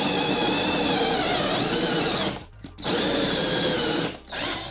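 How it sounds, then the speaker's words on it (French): A hole saw drills through wood, a loud, close, steady power-tool whine that cuts out twice, briefly around the middle and again near the end, then resumes. "Quand vous faites un perçage à la scie cloche"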